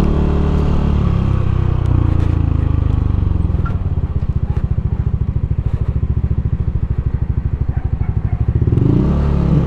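A Yamaha NMAX scooter rides over a rough village road, its engine a steady close drone broken by a rapid rhythmic thudding and clatter as the wheels bounce over the uneven surface.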